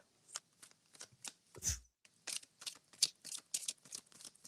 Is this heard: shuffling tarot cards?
yes